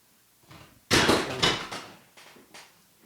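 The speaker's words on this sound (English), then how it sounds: "You just heard me knock the mouse off my desk and knock something else over." A computer mouse knocked off a desk and another object knocked over: a loud clattering thump followed by a short run of rattling knocks, then two softer taps as things settle, close by with no talk.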